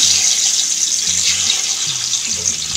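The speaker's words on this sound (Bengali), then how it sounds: "এখন মাছ কড়াইতে দিয়ে দিচ্ছি।" Fish pieces going into hot mustard oil in a wok set up a loud, dense, steady hiss of sizzling that fills the whole moment without a break.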